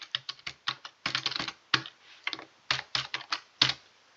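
Quick, uneven bursts of keystrokes on a computer keyboard, close and crisp, with short pauses between runs of typing and no voices.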